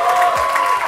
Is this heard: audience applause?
yes